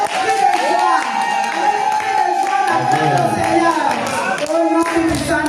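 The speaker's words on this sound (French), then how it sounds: "Acclame le Seigneur avec le cri de joie" Church congregation at a joyful worship service cheering, shouting and clapping together, a loud continuous crowd roar with raised voices and singing-like tones throughout.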